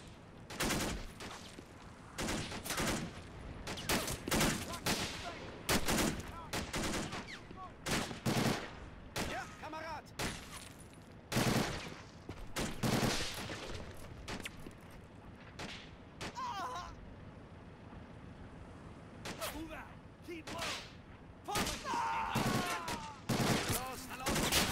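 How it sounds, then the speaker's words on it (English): Machine gun fire rattles in the World War II video game Normandy '44, with repeated loud bursts of automatic fire and scattered distant gunshots throughout, under intermittent voice chat. "they're going to push it into here and get roasted by this MG."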